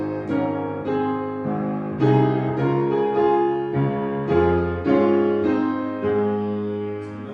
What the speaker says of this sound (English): So if I play that first line of Victory in Jesus using this left-hand octaves method